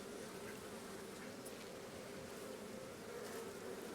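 Honeybees hum in a steady, dense drone around a beekeeper at a farm apiary in August, the buzzing continuous and close with no talking.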